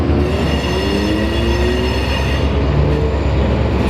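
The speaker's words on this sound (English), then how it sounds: "God, this train would be coming by while I'm trying to film a video" A train rumbles steadily past nearby, loud and continuous, with faint wheel squeals drifting over the heavy low roar.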